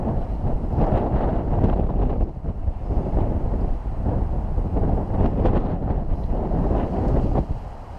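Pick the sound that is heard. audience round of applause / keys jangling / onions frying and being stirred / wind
wind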